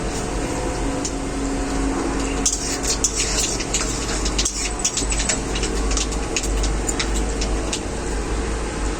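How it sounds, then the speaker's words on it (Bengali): Black cumin (nigella) seeds dropped into hot mustard oil with fried curry leaves make a steady close sizzle, with faint crackles and pops scattered through it and no voices. "এখন আমি দিয়ে দেবো কালো জিরে"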